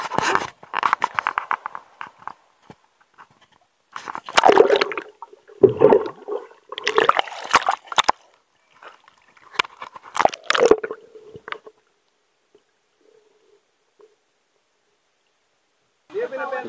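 Splashing in clear, cold sea water off an island while dipping in, bursts of sloshing and squishy water movement close by, with pauses of near silence between them.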